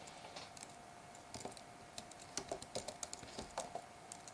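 Code being typed on a computer keyboard, a steady run of light key clicks growing denser and louder toward the end, close by with no talk.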